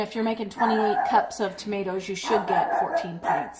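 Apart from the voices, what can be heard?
dog barking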